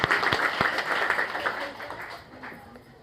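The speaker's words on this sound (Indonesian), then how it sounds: "Tepuk tangan yang terbaik buat Tuhan Yesus." A Christmas church congregation bursts into applause for Jesus, lively clapping from many hands with a few sharp claps up front that gradually thins and fades, some voices mixed in.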